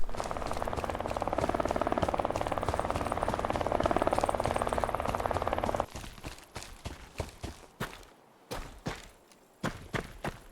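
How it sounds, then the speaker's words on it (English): A helicopter in the survival video game DeadSide whirs steadily with rapid chopping blade beats for several seconds, then cuts off and leaves scattered thumps and footsteps. "Ooh, helicopter."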